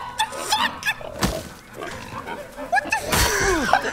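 Pigs grunting and squealing in the video game Ghost of Tsushima, several short snorting calls scattered across the moment, with a louder burst near the end and a voice talking over parts of it.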